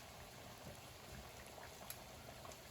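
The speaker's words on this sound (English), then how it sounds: "My pasta water's boiling." A pot of pasta water bubbles at a quiet, steady boil, with soft irregular pops and gurgles over a low hiss.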